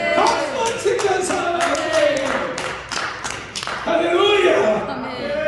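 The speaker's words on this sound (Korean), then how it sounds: "박수 치면서" A church congregation claps hands together in a rhythmic beat while voices sing or speak loudly over it, the claps landing as sharp, regular hits beneath the vocals.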